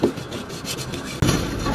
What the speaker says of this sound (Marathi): असं पाणी घालून त्याला असं धुवून घेणार व्यवस्थित आणि नंतर मीठ लावून चांगलं आपण घासून घ्यायचं